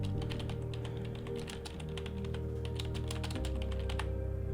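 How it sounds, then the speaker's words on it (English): Fingers type quickly on a computer keyboard while using a PC game's admin panel, producing rapid, irregular clicks over a steady background hum. "then we're going to type in what this is for"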